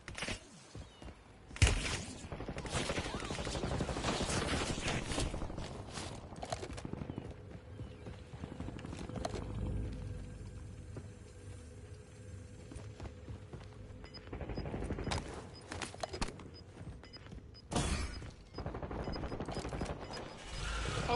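Bursts of gunfire in a Call of Duty match, several loud volleys separated by quieter stretches with mechanical clatter and battle ambience, no talk.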